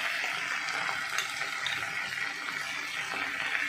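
Two spoonfuls of sour yogurt being whisked in a bowl in a home kitchen, a soft, continuous stirring and scraping texture with faint clinks, steady and close, with no one talking.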